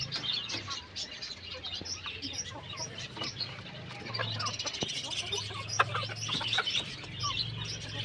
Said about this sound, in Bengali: এই যে আমাদের হাঁস মুরগিগুলো দেখো